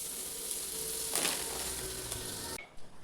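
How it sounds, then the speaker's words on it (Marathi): Butter sizzles steadily on a hot tawa griddle while pav bhaji is being made, a close, bright crackling hiss that holds for a couple of seconds before cutting off abruptly. "तवा गरम करायला ठेवलेला आहे. त्याच्यावर थोडंसं बटर टाकूया."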